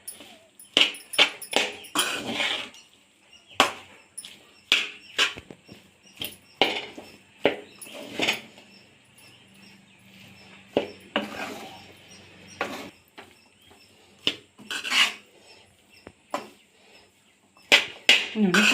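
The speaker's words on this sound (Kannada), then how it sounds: "ರೈಸ್ ಹಾಕಿ ನೀಟಾಗಿ ಮಿಕ್ಸ್ ಮಾಡ್ಕೊಳ್ಳಿ" A spatula scrapes and taps through cooked rice tossed with fenugreek leaves in a pan, making irregular close clinks and scraping strokes with quiet gaps between them.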